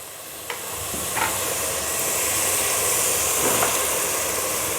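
Ginger and garlic sizzle steadily in hot oil for biryani, a continuous bright frying hiss with a few soft stirring knocks and scrapes, close and fairly loud with no talking.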